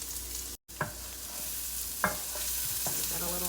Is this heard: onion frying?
yes